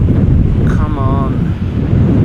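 Strong crosswind at Amsterdam Schiphol Airport buffets the microphone in a loud, continuous roar, with a short faint tonal whine rising briefly in the middle.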